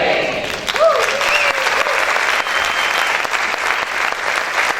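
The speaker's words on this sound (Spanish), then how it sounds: "Si ese aplauso es para el Señor, déselo con fuerza." A church congregation applauds steadily and loudly throughout a worship service, with a voice speaking over the clapping.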